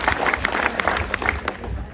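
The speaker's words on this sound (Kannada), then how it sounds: "ಚಪ್ಪಾಳೆ ಬರಲಿ" Audience clapping at a teacher's send-off event, a dense burst of many hands applauding together, steady and fairly loud throughout.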